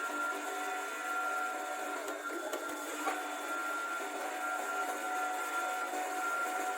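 A surface grinding machine runs after being switched on, giving a steady mechanical whine and hum with layered tones. It sounds even and continuous, with a few faint clicks and knocks partway through.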